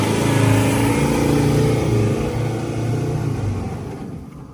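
A car with over-inflated tyres revs hard as it tries to climb a steep track on an Australian road trip, a loud, steady engine roar with rumbling low tones that eases slightly toward the end.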